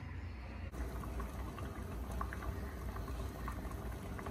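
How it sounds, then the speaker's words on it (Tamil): Kadalai (chickpea) curry bubbling in a pot, a steady close simmering burble with scattered pops, continuous and alone. "இப்போ இதில் நல்லா கொதி வரட்டும்."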